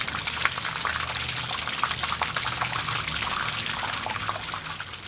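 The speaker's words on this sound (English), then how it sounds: "just by filling it with water and letting that stuff pour out" Water mixed with loose debris pours and trickles out of a Mazda RX3 fuel tank during cleaning, a continuous close splashing gurgle with small irregular clatters.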